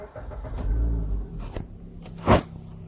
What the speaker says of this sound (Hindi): पहले आपको कार स्टार्ट करनी होगी। क्लच दबा के स्टार्ट कर दो।